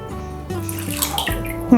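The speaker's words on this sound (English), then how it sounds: "I want to add water, so it's going to cover the whole meat." Water pours steadily into a container to cover a pork belly being cured for smoking, a continuous close splashing fill with a low background hum.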